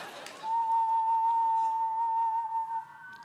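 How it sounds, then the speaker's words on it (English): A single sustained human whistle holds one steady pitch for over two seconds at fair loudness, with faint murmuring before and after it. "Can anybody do this whistle?"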